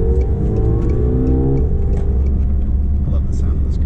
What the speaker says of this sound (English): I love the sound of this car, though. It's nice as fuck. Throaty.